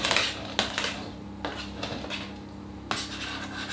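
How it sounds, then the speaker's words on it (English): A spatula scraping lemon drizzle cake batter off the sides of a bundt tin, giving soft rubbing strokes broken by a few sharp clinks of utensil against the metal pan, with a steady low hum underneath. "Try and scrape the stuff off"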